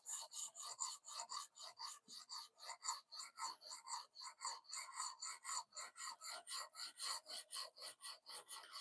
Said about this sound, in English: Sharpening my own knife.